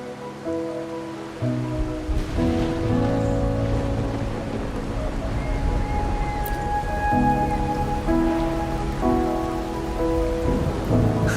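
Steady rain in the video game Wuthering Waves, with a low rumble like distant thunder, falling continuously throughout beneath a soft, sustained musical score.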